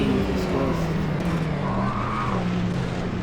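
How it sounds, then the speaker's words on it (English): Nissan R390 GT1 race car engine in Automobilista 2, a sustained droning engine note with shifting pitch and a hint of tire noise, loud and continuous, with a voice talking over it. "you can still hear the engine"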